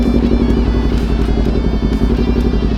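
A Kawasaki Ninja 400 motorcycle drones steadily at close range while being ridden, a loud, even engine hum with pulsing low rumble and wind noise throughout.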